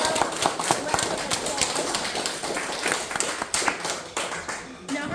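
Audience applause for a colored pencil demonstrator at a workshop, steady clapping from a room of people with dense overlapping claps, fairly close and continuous throughout.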